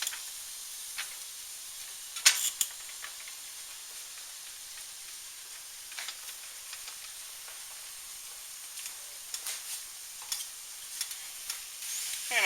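Shrimp fry in a pan with a soft, steady sizzle, broken by occasional sharper crackles and pops, heard close and fairly quiet with no talk.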